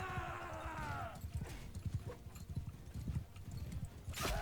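Horse hooves clip-clop steadily in the War Sails video game, close and rhythmic across the clip, with a brief whinny near the start and a burst of noise at the end.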